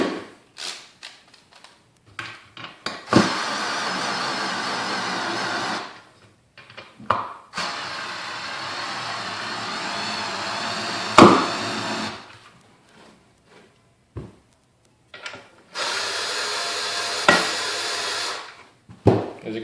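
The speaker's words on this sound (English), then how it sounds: "I'll use an electric screwdriver." An electric screwdriver backs out the headlight reflector screws on a Ninja 300 motorcycle in several separate bursts of whirring, each lasting a few seconds, with quiet handling noises and clicks between the runs.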